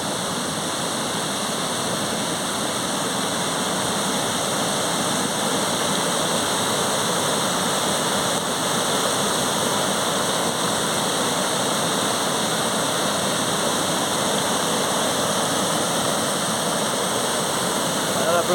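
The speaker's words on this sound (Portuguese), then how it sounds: "Ela cai na cachoeira aqui, ó. Na cachoeira do Pio aqui, ó." Cachoeira do Piu waterfall in Serra do Brigadeiro, Minas Gerais, a loud, steady roar of falling water that stays constant throughout, close and dominant, with a faint voice somewhere beneath it.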